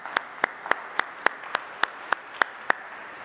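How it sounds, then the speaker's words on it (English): Clapping during a Sunday Mass in a church: about ten sharp, evenly spaced claps in a steady rhythm, standing out clearly over a quiet room. "Let's give them a round of applause."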